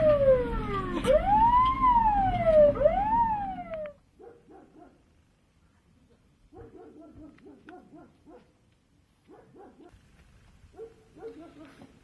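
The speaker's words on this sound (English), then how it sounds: "Now we are in the back of an ambulance." An ambulance siren wails loudly and close for about four seconds during a drive to a medical emergency, sweeping up and down before cutting off, followed by quiet, sparse chirping sounds with no talking.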